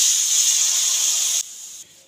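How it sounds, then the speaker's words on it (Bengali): Water hits a hot wok in a kitchen where raw mangoes are being cooked with turmeric and salt, giving a loud, steady steam hiss that drops sharply in two steps near the end. "এখন ওই কড়াইয়ের মধ্যেই দিয়ে দিলাম সামান্য একটু জল,"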